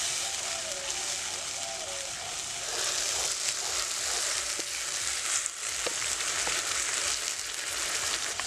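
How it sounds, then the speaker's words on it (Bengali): Grated onion and tomato frying with spice paste in a pan, a loud, steady, dense sizzle running throughout with occasional stirring clinks. "পেঁয়াজ আর টমেটো দিয়ে মশলাটা আবারও কষাতে হবে।"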